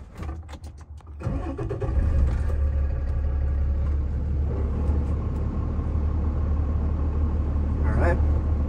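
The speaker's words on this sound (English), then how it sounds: "I can start the truck." A CDL training truck's engine cranks and catches, then settles into a steady, loud, close idle rumble that holds to the end, with brief talk faintly at the start.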